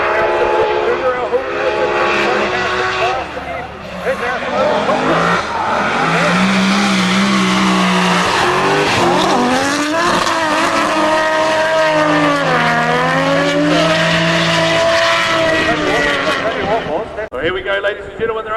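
Race cars at a time attack event roar off the line, engines screaming loudly and rising and falling in pitch through gear changes, with tires squealing and crowd noise beneath.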